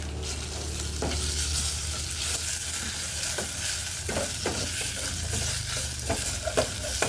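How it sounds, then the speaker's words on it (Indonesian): Patin fish pieces stir-fry in a pan with a constant low sizzle, while a spatula scrapes and taps the pan in irregular strokes, heard close with no speech. "Jadi kita masukkan ikan patin, kita tumis sebentar ya."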